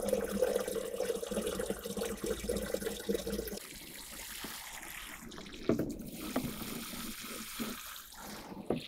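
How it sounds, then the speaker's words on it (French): Water poured over potatoes planted in a bucket of garden soil, a steady close splash and trickle that fades after a few seconds into quieter dribbling and small splashes. "on va pouvoir passer à l'arrosage"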